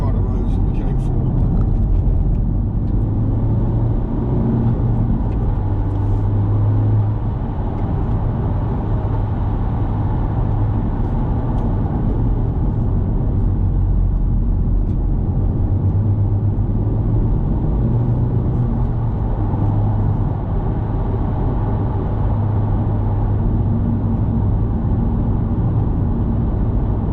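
Steady interior drone of a car driving along tight Scottish Highland roads, continuous engine and tyre rumble with little change, loud and close, while a voice talks over it.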